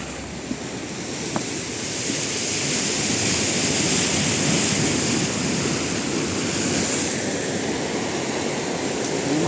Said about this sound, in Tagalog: Taas ng alon dito.